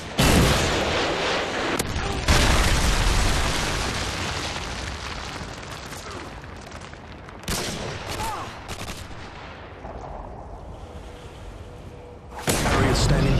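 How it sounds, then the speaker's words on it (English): In Modern Warfare 2, a Predator missile strike and gunfire set off heavy booming blasts, with loud bursts at the start, midway and near the end, each decaying into rumbling noise, with some game voices around them. "Predator missile inbound."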